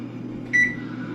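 A microwave oven hums steadily while keto banana bread bakes, with a short electronic beep rising briefly partway through; quiet and close, no voices.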